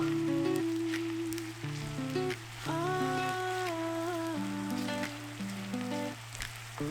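Ginger and green onions sizzle in hot oil for a ginger scallion sauce, a soft continuous hiss under a steady hum and shifting tonal background sounds, no speech.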